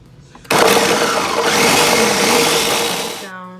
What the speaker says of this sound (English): we're just gonna pulse this because you could use a food processor, but I'm opted to use a Ninja